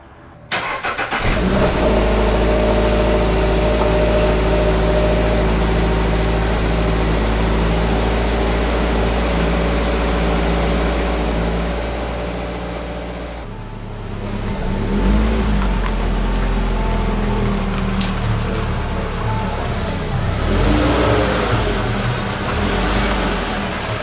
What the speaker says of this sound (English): Okay, cold start 2022 GR86.